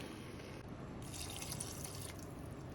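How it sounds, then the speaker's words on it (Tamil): Water for mutton biryani runs steadily into a cooking pot, a continuous splashing, dripping fill that brightens and thickens midway, close and alone with no talk. "தண்ணி போட்டாச்சு"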